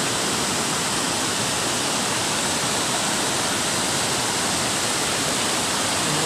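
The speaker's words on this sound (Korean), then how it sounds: "바다 소리가 너무 커가지고" Loud, steady rushing water from a waterfall near Luang Prabang fills the whole clip, a dense broadband roar with no pauses or voices.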